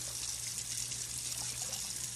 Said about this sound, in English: then you pour that rice water off